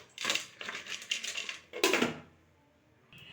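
Salted bitter gourd pieces shaken in a vessel, a few quick rattling bursts of pieces knocking against the container, close and fairly loud, then fading to quiet.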